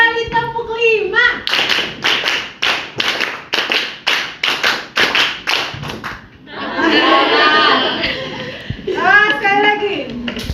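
Children in a classroom clap out a counted pattern, with sharp, evenly spaced handclaps in quick bursts. Young voices chant between and over the groups of claps, then loud group chatter follows.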